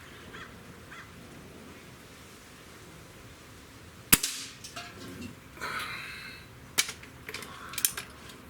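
A Stoeger AT30 air rifle fires a single sharp crack a little past the midpoint, followed by faint clicks and rustles, with a second sharp snap later and a quiet background otherwise.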